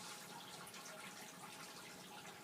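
Water pours steadily into a container in a soils lab, a continuous soft splashing rush with no talking.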